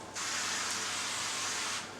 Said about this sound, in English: We're going to spray these down with a little olive oil.